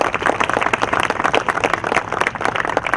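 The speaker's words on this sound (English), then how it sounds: "Big round of applause to them." A crowd applauds a pair of technology leaders at a company event, dense steady clapping from many hands filling the room, close and sustained without pause.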